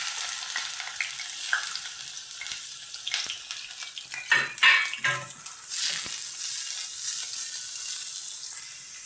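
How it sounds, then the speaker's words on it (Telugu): Onions and green chillies hit hot oil in a pan, giving a bright, hissing sizzle with some stirring clatter and a brief burst of louder spattering midway, close up with no talk. "ఆయిల్ వేడేది కదా, ఉల్లిపాయ పచ్చిమిరపకాయలు లైట్గా వేసుకుందాం."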